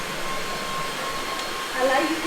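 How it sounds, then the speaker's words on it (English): A Samsung Jet cordless vacuum cleaner fitted with its pet tool runs as a steady, fairly quiet whirring drone close by, with a slight rise in pitch and volume near the end. "first impression of this new Samsung Jet vacuum cleaner"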